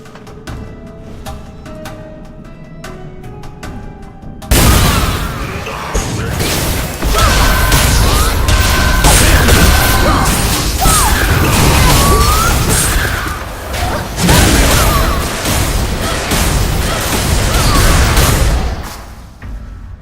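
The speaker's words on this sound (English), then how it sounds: "I heard an explosion" A sudden loud blast bursts in from quiet music during a Blade and Soul game scene, followed by sustained crashing, rumbling noise and chaotic effects that roll on before fading.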